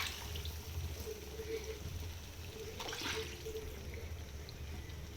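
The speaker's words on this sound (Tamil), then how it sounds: "இப்போ இந்த தண்ணியை சேர்த்திக்கிறேன்." Water poured into a simmering masala for Tamil oil brinjal curry (ennai kathirikkai kulambu), a steady soft liquid wash running through the whole stretch with a brief louder splash near the middle, no talking.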